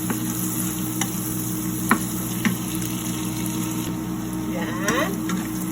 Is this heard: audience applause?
no